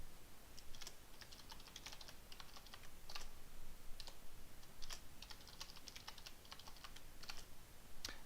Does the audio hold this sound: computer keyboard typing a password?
yes